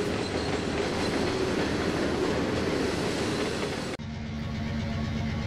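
CSX freight train led by locomotive 5494 rolling past on the Norfolk Southern Gunnison District, a loud, close, steady roar of wheels on rail that cuts abruptly to a quieter, lower rumble near the end, with no talking.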